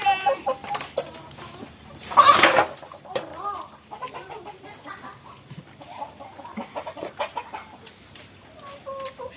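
Live chickens cluck in short bursts close by in a pesantren courtyard, with a louder squawk early on, while a person speaks softly in the background.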